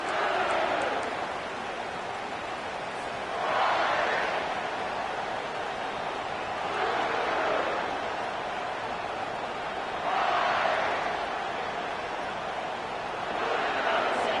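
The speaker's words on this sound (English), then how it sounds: "This crowd trying to make life miserable for this offense." A stadium crowd roars in a college football video game, Rice at Kentucky, a steady broad wash of noise swelling in periodic waves, with commentary voices over it.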